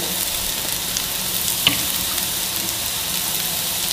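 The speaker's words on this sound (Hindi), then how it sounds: "थोड़ा सा ऑयल और डालूंगी, तकरीबन 1 टेबलस्पून मैं ऑयल और डालूंगी।" Shami kababs fry in oil in a pan, giving a constant close, bright sizzling hiss with a single sharp tick midway and no voices.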